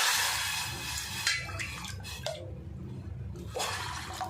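Water splashes as it is poured from a cup in a few short bursts with brief pauses between them, close by.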